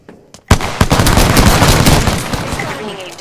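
Gunfire in the Apex Legends video game erupts after a brief pause as a loud, close, rapid string of overlapping shots that continues steadily to the end.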